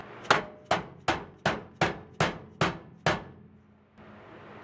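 Eight sharp, evenly spaced hammer blows ring out close and loud as a steel floor pan is beaten into place on a Jeep Comanche pickup, each strike decaying briefly before the next, with a quiet pause at the end.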